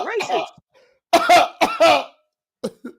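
A man coughs and clears his throat in a few rough, close bursts, mixed in with short vocal sounds and pauses.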